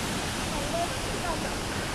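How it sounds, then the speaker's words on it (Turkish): Palavuç waterfall pours in a steady, dense rushing roar heard up close from a walking path, continuous and even throughout with no pauses. "Palavuç Şelalesi'ndeyiz şimdi."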